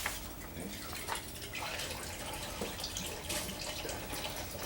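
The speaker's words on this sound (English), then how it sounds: "Let me rinse these 2 beakers out." Two laboratory beakers rinsed under a running tap, a soft steady stream of water with faint splashes and clinks throughout.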